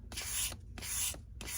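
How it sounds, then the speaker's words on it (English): Hand sanding of primer with sandpaper on a foam FMS 70mm F-18 Blue Angel model jet: three slow, even rasping strokes, close and fairly quiet, separated by short pauses. "Sanding primer this way."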